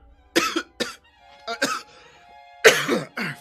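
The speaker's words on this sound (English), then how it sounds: "this coughing isn't from the cold anymore" Several harsh coughs from one person close to the mic, in short bursts with gaps between them, the last pair the loudest.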